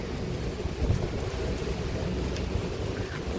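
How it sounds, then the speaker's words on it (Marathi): Steady, continuous downpour with wind during a fishing outing, heard as a dense, unbroken hiss that stays at an even level throughout, with no voices. "चालूच आहे पाऊस, कंटिन्यू पाऊस चालू आहे."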